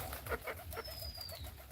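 Low, soft pigeon coos repeat under a busy outdoor background, with a faint thin whistle passing briefly midway.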